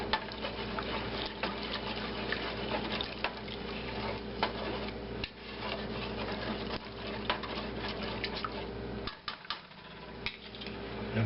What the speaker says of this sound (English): Now stir this around.